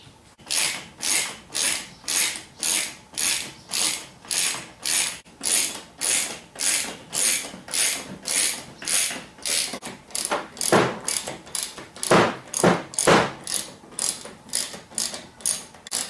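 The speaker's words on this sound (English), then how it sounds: "I'm going to go ahead and tighten these bolts down" A ratchet tightens bolts on a 1997 Firebird car seat, a rapid run of steady, evenly spaced loud clicks that turns into slower, heavier strokes near the end, close up with no talk.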